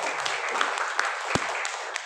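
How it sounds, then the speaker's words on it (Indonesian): Audience applause in a seminar setting, a steady dense wash of clapping running through the whole short stretch at moderate level, with no voices over it. "Tepuk tangan untuk"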